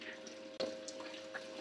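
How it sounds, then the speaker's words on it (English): Water flows steadily over a Miller table used to separate heavy material, a continuous gentle trickle and splash with a brief surge, close up. "There's my water flow."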